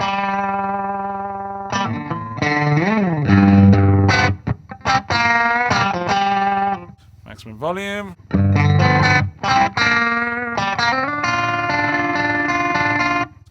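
A Flattley Violet Tremolo guitar pedal set to maximum rate, its electric guitar chords chopped into a fast, fluttering pulse, loud and up close, with brief pauses between strummed phrases and a short spoken remark.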